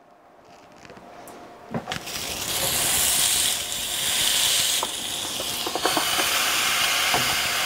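A beef burger patty sizzles in a waffle maker, starting quiet and then rising into a loud, continuous hiss with scattered pops and crackles, close up, with no talking.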